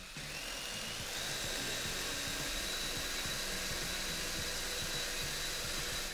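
A cordless drill whirs steadily at high speed, spinning a Simson speedometer cable for a test, a continuous close electric motor whine with a slight pitch rise near the start.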